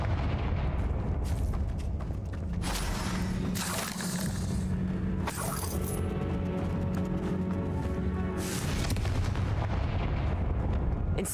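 A Confringo blast spell in the video game Hogwarts Legacy: dense rumbling booms and crackling bursts layered over continuous loud game noise, with several sharp impacts across the scene.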